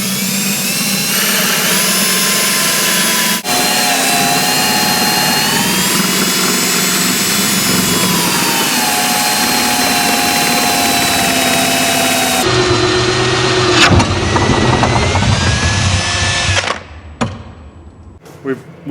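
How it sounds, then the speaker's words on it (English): A drill bores through a door for lever and latch holes, its loud, steady motor whine shifting pitch as it cuts, with a brief break near the start and the noise turning rougher and choppier toward the end before stopping. "We drilled all the way through both bores for the lever and for the latch"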